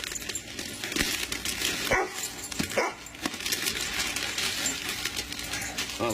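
A dog barks in short, scattered bursts indoors, mixed with crinkling and rustling of paper close by. No one speaks.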